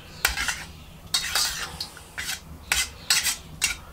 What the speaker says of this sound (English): Give it a good stir, get that all mixed up.